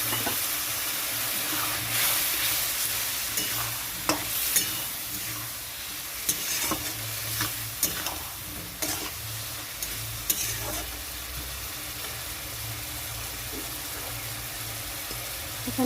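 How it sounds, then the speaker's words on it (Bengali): A spice paste sizzles and steams in a pan after a little water goes in, with a steady hiss and repeated stirring scrapes and clicks over about sixteen seconds, no talking. "এখানে একটু জল দিয়ে দিচ্ছি মশলাটা কষানোর জন্য।"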